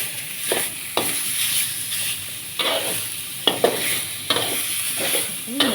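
Sliced, unmarinated pork hip stir-fries in a hot pan for pad thai with Korat rice noodles. The sizzling is loud and close, broken by repeated scraping stirs of the spatula at an uneven rhythm.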